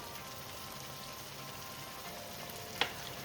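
Spice paste with turmeric and salt frying in oil for a Bengali fish curry, a faint, steady low sizzle with one brief sharp clink near the end, no talking.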